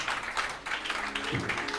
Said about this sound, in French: Donne une puissante acclamation au Seigneur